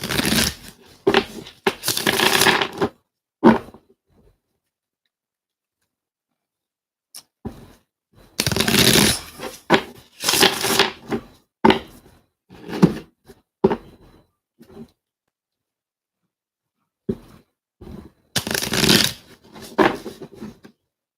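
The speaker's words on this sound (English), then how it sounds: "My small ass hands can never shuffle this big ass deck." A large deck of tarot cards being shuffled by hand in three loud bursts of riffling and flapping, separated by stretches of silence.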